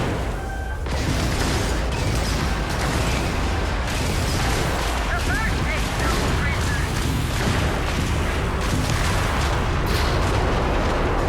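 Steady, dense gunfire and booming blasts from combat in the sci-fi game Starfield, loud and continuous throughout with heavy low rumble and sharp bursts, with no pause.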